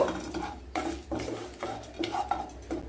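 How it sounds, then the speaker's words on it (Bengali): Whole bay leaves, cardamom pods, cloves and a little cinnamon are stirred in a kadai, the spoon scraping and clinking against the metal in several short bursts, close up with no talk. "2টো তেজপাতা, 5টা এলাচ, 3টে লবঙ্গ আর খুব সামান্য দারচিনি দিয়ে একটু নেড়ে নেব"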